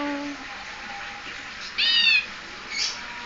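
A bird mimics cat sounds, giving a short rising meow-like call and then a fainter second cry, close and clear against a low background hum.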